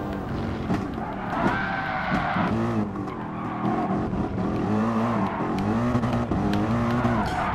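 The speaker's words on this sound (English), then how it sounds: "Too much wheel spin there." An SLS AMG GT3 '13 in a Gran Turismo Sport GT3 Cup race spins its wheels on an uneven surface, its engine revving loudly with repeated tire skids and squeals, continuous and close with no talk.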